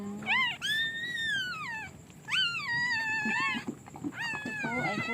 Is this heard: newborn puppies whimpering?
yes